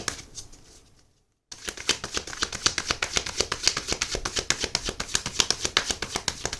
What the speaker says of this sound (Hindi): लास्ट शफल है, इसके बाद आपके कार्ड्स मैं खुद निकालूंगी।